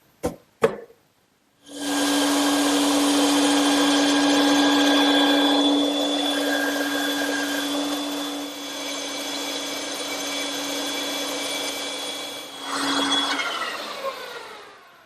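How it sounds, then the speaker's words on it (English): A bandsaw cutting chair arm and foot shapes from wooden blanks: a couple of sharp knocks, then the saw spins up to a steady loud whine with a strong hum, the blade biting through wood for about ten seconds before winding down. "now I can return to the bandsaw and cut those shapes out"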